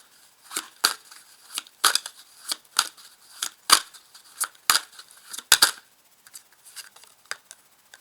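Tarot cards drawn from a deck and laid down during a reading make crisp, sharp snapping and sliding clicks that repeat roughly every half second, close and clear with no voices.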